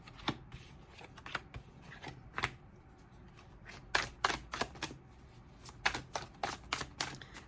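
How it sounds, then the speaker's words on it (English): Large tarot cards being shuffled by hand, irregular bursts of crisp flapping and riffling clicks, close and fairly quiet. "these cards are a little bit big, so having to shuffle rather dramatically"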